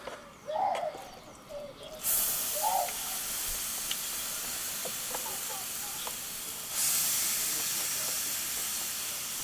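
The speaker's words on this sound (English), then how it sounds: "You don't want to fry it, but you just want to make sure it sizzles a little bit to get rid of the excess moisture" Mushrooms for a beef Wellington hit a dry pan and give off a steady, broad sizzling hiss that starts after a couple of seconds and continues, with soft bird cooing near the start.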